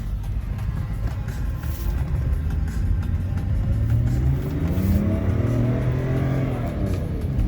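An old BMW E34 drives on a highway, its engine humming loud and close inside the cabin, revs climbing and falling through gear changes over steady road rumble, no one speaking.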